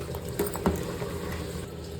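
Water at a rolling boil with rice in a cooker, a steady bubbling churn with a few soft pops and splashes, close and continuous.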